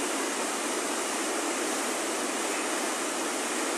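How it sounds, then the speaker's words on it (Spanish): Rushing river water pours downstream in Tapilula, Chiapas, where two rivers join during flooding, a loud, dense and steady roar with no breaks and no voices. "La magnitud de cómo va bajando el agua"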